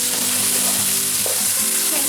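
Chopped vegetables with green chillies for Chinese veg fried rice stir-fried in a hot pan, a loud, steady sizzle of frying throughout with faint scraping of the spatula.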